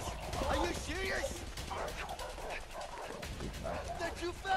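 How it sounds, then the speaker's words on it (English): Dogs bark and yip while chasing in the A Way Out video game, with excited yelps and whimpers over running footsteps, overlapped by people talking loudly and urgently. "Oh, man, they got some dogs."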